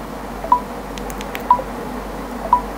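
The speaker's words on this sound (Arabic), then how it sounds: "الساوند افكت اللي بيطلع اول ما تحط صبعك على البصمه" Fingerprint unlock sound effect on an Honor 90 Lite phone, a short bright tone repeated three times at even one-second intervals over a quiet background.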